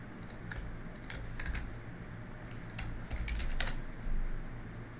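Steady clatter of keystrokes on a computer keyboard, quick irregular taps with a few louder bursts, close and clear over a low background hum, no voices.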